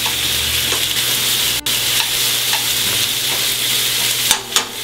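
Scallops sizzle loudly in a frying pan as they are turned, a constant close hiss of hot fat with a brief dropout and a couple of sharp spatter pops near the end.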